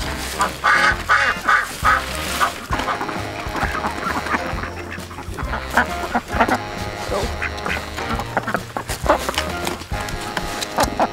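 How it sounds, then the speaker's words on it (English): A flock of Khaki Campbell ducks quacking loudly and continuously at close range, overlapping calls in an irregular chattering rhythm. "khaki camels can be pretty loud"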